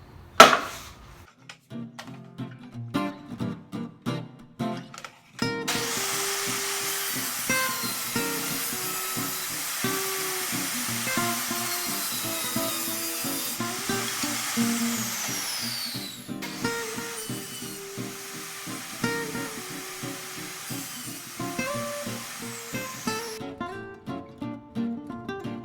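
A hand saw cuts the tongue off an oak flooring strip in a workshop, first with short irregular strokes, then with a long steady rasping stretch, close and moderately loud.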